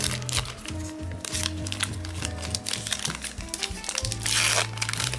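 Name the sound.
opening a trading card wax pack wrapper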